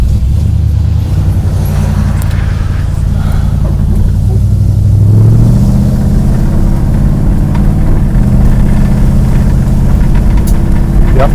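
The 1973 Dodge Dart Swinger drives with a loud, steady low engine rumble that rises slightly partway through, with a steering column rattle and a whine somewhere in the noise.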